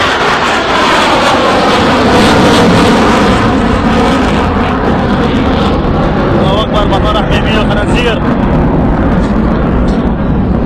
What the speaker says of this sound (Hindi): वहाँ से रूस के फाइटर जेट हेलीकॉप्टर मूवमेंट करते हुए नज़र आ रहे हैं